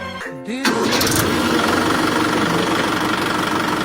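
A heavy tractor diesel engine cranks briefly, then catches and roars into a loud, steady rumbling idle close by.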